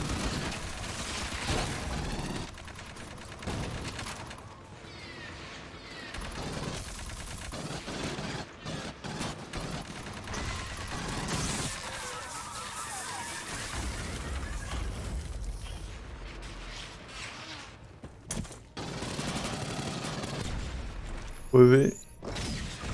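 An automated turret in Aliens Fireteam Elite fires sustained rattling bursts amid other combat noise, mostly running under a player's talk.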